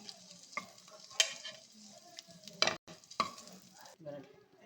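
Eggs frying in a pan for an egg gravy, stirred with a spatula, giving a soft steady sizzle broken by several sharp scraping clatters of utensil against the pan.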